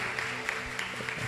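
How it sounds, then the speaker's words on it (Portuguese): Congregation in church applauding during a New Year's Eve service, a brief soft wash of clapping with faint hand bursts and some murmured voices beneath, fairly quiet and distant. "É para aplaudir de pé"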